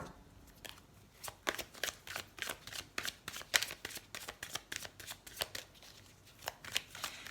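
Tarot cards are shuffled in a steady run of soft, crisp riffling flicks, close and quiet, repeating evenly without any speech.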